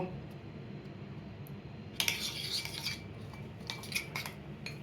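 Fried spice mix gets stirred into Kashmiri aloo dum in a kadai: after a quiet start, a metal spoon clinks and scrapes against the pot in short bursts, close and moderately loud.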